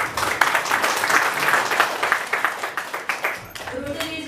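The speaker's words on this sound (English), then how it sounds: "Let's give them a big round of applause." Audience applause at a Rotary program ceremony, dense clapping sustained throughout at steady loudness, with voices mixed in and the clapping thinning near the end.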